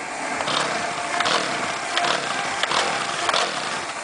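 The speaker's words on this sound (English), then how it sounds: "I got a chainsaw." A chainsaw engine held on throttle gives a steady, loud, buzzing whine with small surges in pitch, running close by with no talking over it.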